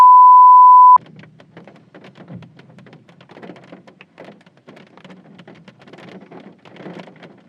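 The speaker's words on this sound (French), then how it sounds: "la pluie commence à arriver et l'orage commence vraiment à tomber" Steady rain with a thunderstorm moving in outdoors, a soft continuous patter of drops of uneven density, fairly close, heard alone after a short steady electronic beep at the start.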